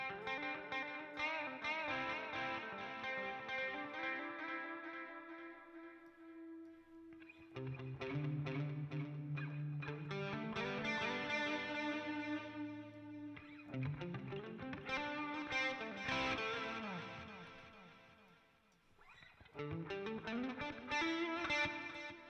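Electric guitar played through effects, with shimmering chorus, repeating delay echoes and a washy reverb tail. Sustained chords and runs ring out continuously, fairly loud, with no talking.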